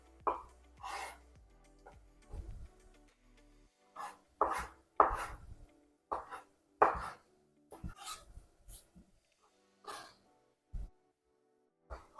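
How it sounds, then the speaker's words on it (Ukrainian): A knife slices assorted cured meats for a homemade solyanka, producing a series of irregular, close, crisp cuts and taps against a board, with quiet pauses between strokes. "Поки все це готується, я наріжу м'ясне асорті."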